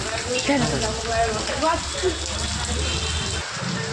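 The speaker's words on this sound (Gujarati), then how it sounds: "આ વરસાદ જોરદાર ચાલુ હોય" Heavy monsoon rain pours steadily in a Mehsana district village, a loud, continuous wash under several people talking and shouting.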